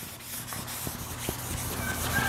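Guide coat being rubbed by hand onto a 1950 Chevy truck fender, a soft continuous scuffing rub with faint irregular taps, close and low in level, no talking.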